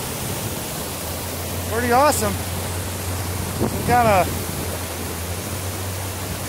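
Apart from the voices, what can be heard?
waterfall at a mini golf course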